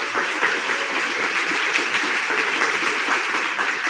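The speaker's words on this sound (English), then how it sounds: "give applause more there" Applause from an audience at a digital illustration lecture session, a steady, dense clapping filling the room at moderate volume throughout, with no talking over it.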